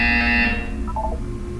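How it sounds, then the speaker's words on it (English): A harsh electronic buzzer in a Portal 2 test chamber blares loudly for about half a second, then cuts off, leaving a low steady hum with a few faint electronic blips. "When you hear the buzzer, look up at the ceiling."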